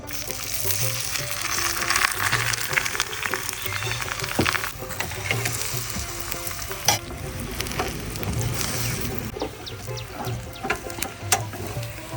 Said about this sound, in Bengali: এটা উল্টিয়ে দিচ্ছি একটু তেল দিয়ে দিচ্ছি